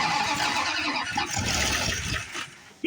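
A 318 V8 car engine being cranked after reassembly, with a dense churning roar that fills the whole clip at steady loudness before dropping off near the end, with no talk.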